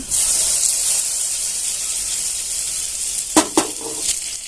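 Steady hissing sizzle of asafoetida tempering hitting hot oil, loud and close, with a few sharp clinks near the end.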